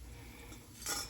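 Crispy fried garlic being scooped out of chili oil with a metal utensil, a brief faint crackly scrape and rustle near the end of a quiet moment, with no talking.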